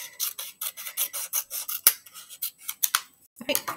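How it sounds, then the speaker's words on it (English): Scissors snip through paper for a children's shape monster craft, a quick series of crisp close cuts in short bursts with brief pauses, loud and alone with no talking. "I'm gonna cut and then cut."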